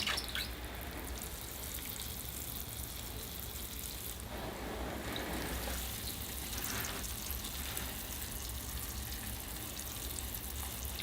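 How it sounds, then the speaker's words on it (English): Water is poured onto a freshly repotted French lilac bonsai, a quiet trickle and patter of drips with a slightly fuller splash partway through, soft and close with no talking. "So next, I'll have to give the tree a water. All right, here I go with the water."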